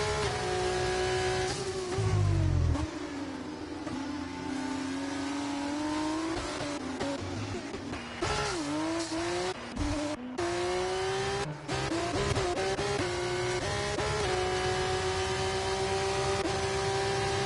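F1 race cars in the F1 24 game at Abu Dhabi scream past at high revs, with layered engine whines rising and falling through gear changes, a brief low rumble and tire noise, steady and loud throughout.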